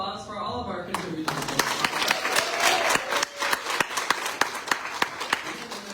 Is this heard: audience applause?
yes